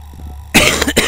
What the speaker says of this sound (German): Der Husten, der nervt.